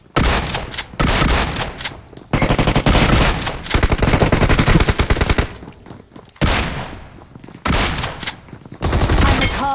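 A DBS shotgun fires in a video game. Loud, close bursts of rapid shots come in several volleys with short gaps between them and drown out everything else.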